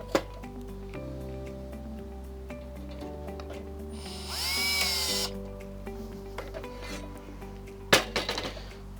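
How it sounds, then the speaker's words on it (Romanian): Screws are tightened on a homemade landscaping rake, a close electric drill or screwdriver whining in steady stepped tones with a short higher-pitched burst, then a sharp knock and a few rattles at the end. "Trebuie doar să strâng foarte bine șuruburile."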